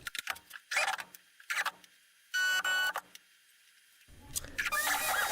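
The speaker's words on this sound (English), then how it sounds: "now I've changed out the bit to an 1/8 inch bit, and it is cutting my initials into it" A CNC router fitted with a 1/8 inch bit cuts initials into a Raspberry Pi case, heard close up as sharp stop-start bursts of high mechanical whine separated by brief near-silent pauses.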